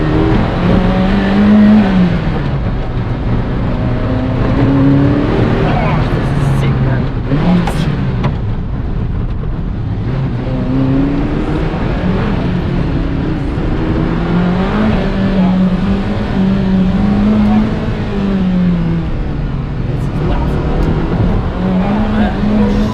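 A Ferrari F40 driven hard in push mode around Monaco, its engine loud and close as it climbs and drops through repeated rising revs and gear changes, staying continuous throughout.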